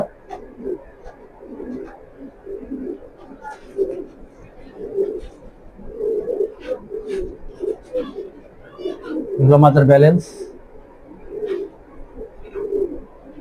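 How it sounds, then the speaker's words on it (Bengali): Racing pigeons coo in a steady, repeated low throb through the whole stretch while someone talks over them, with a brief louder flutter or scuffle near the end. "আমার হাতে যে কবুতরটা দেখছেন এটা হলো মাটি কবুতর"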